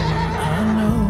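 A racehorse gives a brief whinny in a 2018 drama film trailer. The short neigh wavers in pitch over a dense, loud background bed.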